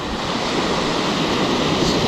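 Ocean waves crash and surge continuously off a shipwreck beyond a Caribbean beach at Punta Cana, a broad, steady roar of surf with wind noise and no voices.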